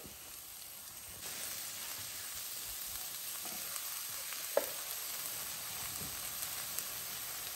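Steady, soft sizzling of diced onion frying in oil, a continuous hiss with a few small pops and crackles, close by and without talk.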